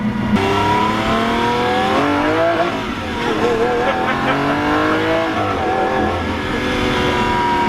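A Lamborghini Aventador with a single-clutch gearbox revs its engine loud and close, the pitch rising and falling in sweeping pulls, with a voice speaking over the roar.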